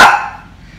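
A single dog bark, loud and close, with a short fading tail and no other sounds around it.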